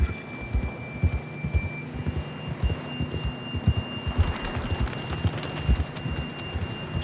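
A horse galloping in the video game Red Dead Redemption 2, an even run of rhythmic hoofbeats close by, with a faint background tone and no talking.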